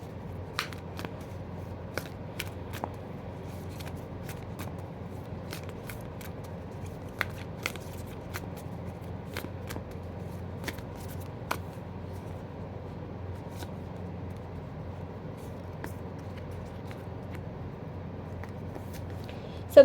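A tarot-style oracle card deck, a self-healing deck, is shuffled by hand in a quiet room, producing soft close riffles and sharp intermittent card snaps over a low hum, with no talking.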